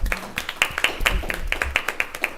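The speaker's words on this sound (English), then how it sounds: "I think they deserve a round of applause" People at a city council regular meeting clap in appreciation of a budget team, sparse and uneven individual claps from a small group, fairly close, with a murmur of voices underneath.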